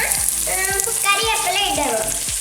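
Sliced onions and curry leaves frying in a hot pan for chicken chilli flakes, a steady close sizzle broken by a few soft stirring scrapes, with no voices.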